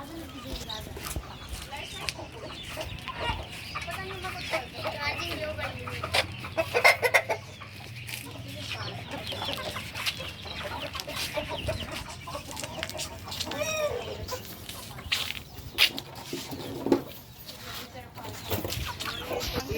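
Chickens clucking on a rooftop while being fed grain, with busy, overlapping clucks and scratching all the way through and people chatting nearby.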